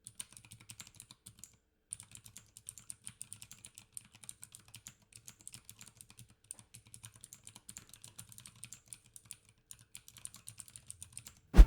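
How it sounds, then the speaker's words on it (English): Mechanical keyboard fitted with Cherry MX Blue clicky switches, typed on in a steady run of crisp, close keystrokes with a short pause near the start and no talking. "Cherry MX Blue switches are ideal for people who enjoy hearing and feeling a clear, classic mechanical click when they press a key."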